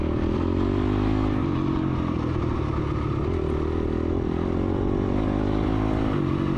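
A dirt bike in a woods race roars continuously up close, the engine revving hard and shifting through gears with some clatter from the terrain, no talk.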